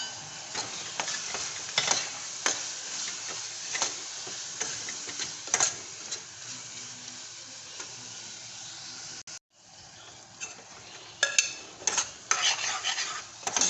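Ground spices, including red chili, turmeric, coriander and Kashmiri chili powder, roasting in a pot for dal, with a faint hiss under repeated metal spoon scrapes and clinks that pause briefly midway, then pick up again.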